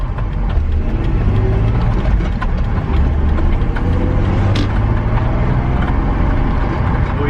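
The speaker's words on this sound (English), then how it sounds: "Oh yeah, big misfire now." Loud, close engine of a BMW E46 323ci running with a misfire, a rough, uneven drone with some mechanical rattling throughout and no talking.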